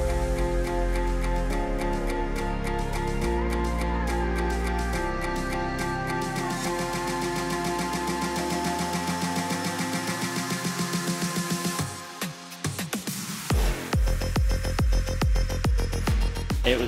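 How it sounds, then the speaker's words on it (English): Dune buggy tearing fast over steep desert sand dunes at Huacachina, engine roaring and surging continuously, with rising and falling revs, bumps and rattles, wind buffeting, and a sharp drop and recovery near the end. "Tearing through the desert sand with the wind battering us, our driver went up steep dunes and launched us over the other side"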